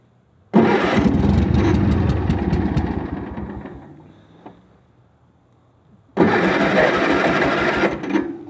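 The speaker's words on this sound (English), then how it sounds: "So let's see if she'll fire back up." An old Ford car engine cranks and fires up, running loudly for several seconds before dying down, then catching again with a second loud burst near the end.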